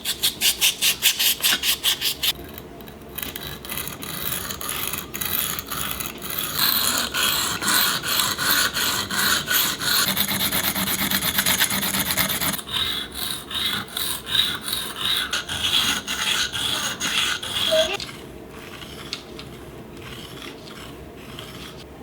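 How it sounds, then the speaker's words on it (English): Hand-forged fish hooks being sharpened on a Japanese whetstone with 2000 and 8000 grit sides, steady close scraping and rasping strokes in runs with short pauses, no talking. "I've got a Japanese whetstone with a 2000 grit and an 8000 grit side"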